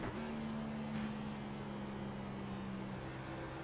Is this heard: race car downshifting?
yes